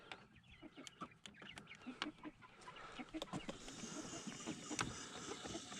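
Several chickens cluck softly as they come out of a coop in the morning, with scattered nearby clucks and faint bird calls over a low background rumble.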